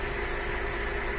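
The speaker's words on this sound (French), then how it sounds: "Le moteur, donc, il fonctionne bien, correctement." A car engine runs steadily at idle after a repair, giving a constant even hum and vibration with no talk over it.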